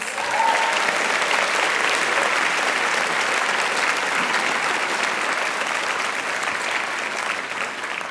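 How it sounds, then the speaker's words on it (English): A large audience at a university commencement ceremony applauds in sustained, dense clapping for the full length, steady and loud with no speech on top. "we'll give her a round of applause"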